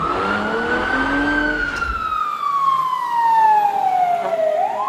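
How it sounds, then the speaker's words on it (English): An American fire truck siren gives one long, loud wail that holds high and then sweeps slowly downward, with no talking. "This is an American fire truck."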